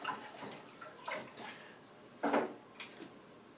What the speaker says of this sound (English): Give that a final stir.